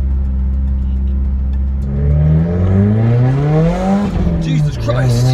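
A turbocharged Subaru WRX accelerates hard from low speed, its engine note climbing steadily in pitch and loudness, then dipping briefly at a gear change before it rises again, heard close from inside the car.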